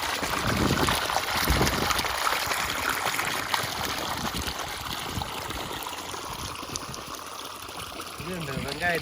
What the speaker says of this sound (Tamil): இந்த கால் வழியாக தான் போகும் தண்ணி, ஒவ்வொரு பாத்திகளுக்கும் போகும்